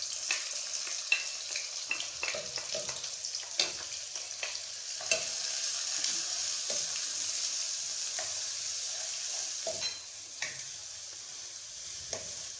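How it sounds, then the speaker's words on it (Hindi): Sliced onions fry in about a cup of hot oil, sizzling steadily and crackling throughout, with occasional stirring clinks and scrapes. "जैसे ही ऑयल जो है वो गर्म होगा, मैं इसमें प्याज शामिल कर देती हूँ।"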